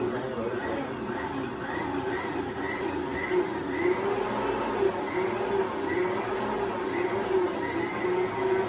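An electric stand mixer kneads wheat bread dough with a steady, continuous whirring hum and a faint periodic thumping rhythm, running alone without talk.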